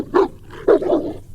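A dog barks nearby, two loud distinct barks a short pause apart, with a rougher trailing bark sound following in an echoey cell block.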